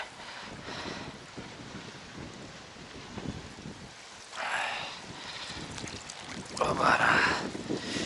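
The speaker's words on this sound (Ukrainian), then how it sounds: "ще й вітер такий досить сильний дує" Strong wind buffets the microphone in a continuous rumbling roar during carp fishing, with louder gusts swelling toward the end.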